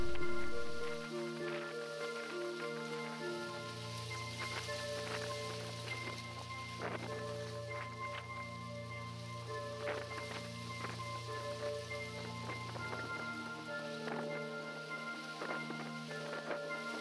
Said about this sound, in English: I like the rattling in the wind